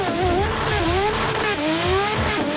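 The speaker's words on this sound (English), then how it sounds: "This is a very loud car." Loud BMW M4 engine held at high revs while drifting sideways, a continuous raw roar with pitch rising and falling as the throttle is worked, close to the microphone and alone, with no talking.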